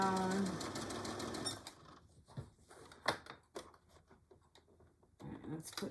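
A sewing machine stitching a Betty Boop pillow cover runs in a fast, buzzing burst at the start. Then it stops, and a voice speaks over scattered clicks and handling noises.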